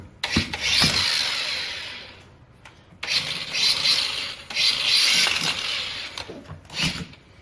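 An angle grinder with a wire wheel scrubs an outboard gearcase from a 2003 Johnson/Evinrude 90 HP V4, giving harsh, hissing rubbing bursts that stop and restart with brief pauses and knocks, close and fairly loud.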